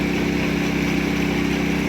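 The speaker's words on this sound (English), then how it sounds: "and the mill's running alright. That engine's terrible to start in the cold." A sawmill's engine runs steadily at a mid-pitched idle, a loud, continuous drone with an even low throb and no voices over it, the mill working in cold weather while frozen spruce is being sawn.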